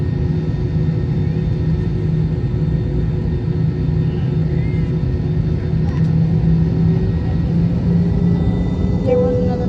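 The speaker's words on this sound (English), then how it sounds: "There was another plane landing." Air Canada Embraer ERJ jet landing at an airport, a steady broad low roar and rumble running throughout, fairly loud and constant without clear peaks.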